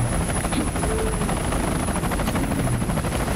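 A steady, continuous helicopter rotor drone with rumbling low end fills the scene from a retro video game, loud and unbroken throughout.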